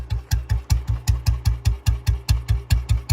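Old BS3 Royal Enfield Bullet engine idling slowly at close range, a steady deep thump-thump beat of evenly spaced firing pulses, loud and alone.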